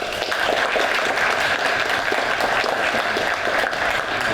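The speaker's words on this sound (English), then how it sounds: "And Dean Tellos should get a special applause because he's actually one of the co-founders" Audience at an evening competition kick-off event giving sustained, dense applause, steady and fairly loud throughout with no individual claps standing out.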